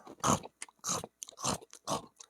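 Crunchy bagnet pork skin being chewed close up, four or five loud crackling bites in a steady rhythm with brief pauses between them.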